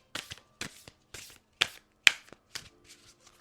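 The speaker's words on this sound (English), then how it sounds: "So I'm going to shuffle this one more time." Tarot cards are shuffled by hand in about eight quick riffling bursts, crisp close papery snaps spaced roughly half a second apart against a quiet room.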